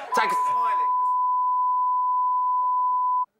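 Housemates imitate an alarm with their voices, producing a steady, sustained electronic-style beep that carries on alone for about three seconds after a brief burst of voices at the start.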